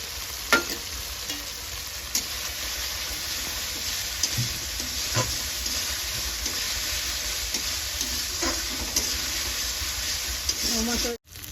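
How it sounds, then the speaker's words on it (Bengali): Spice masala with cumin sizzles and fries in hot oil in a pan, a steady close crackling hiss with occasional louder stirring scrapes throughout. "তো তারপরে আমি মশলাটা এবার এই সুন্দরভাবে কষিয়ে নেব।"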